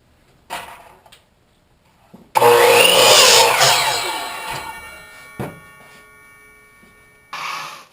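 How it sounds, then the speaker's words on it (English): A miter saw cuts wooden end pieces for a storage shelf, one loud spinning whine and bite into the wood lasting about two seconds, then winding down, with short knocks and handling sounds before and after. "we're just going to cut it using the miter saw"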